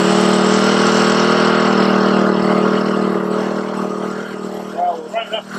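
An Australian-made Christie Engineering 12-volt 55-amp portable generator runs with no load, a steady close engine drone that softens toward the end as a few faint clicks and knocks come through.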